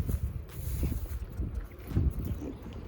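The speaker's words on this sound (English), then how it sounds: "you can see how the wind is blowing. I'm sure you guys can hear it" Wind gusting outside a greenhouse, a steady, rough low roar that buffets the microphone, rising and falling in strong bursts and filling the whole clip without any voices.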